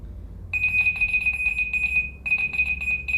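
A high electronic beeping from a Sincon SG5 green laser level in outdoor mode, signaling the detector is off the line, pulses rapidly and steadily, loud and close, with a brief break before resuming.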